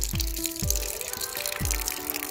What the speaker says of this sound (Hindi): ये देखिए पानी निकाल दिया पीने के लिए,